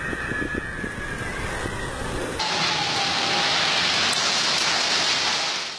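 Heavy rain from an intense, destructive storm over the city of Alfenas, a steady broadband roar that grows louder and denser about midway through, with no voices.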